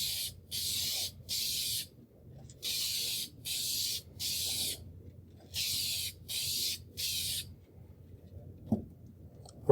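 Repeated bursts of aerosol sealer spraying onto a repaired wood gouge, six or so steady hissing blasts about a second each with short pauses between, close and fairly loud.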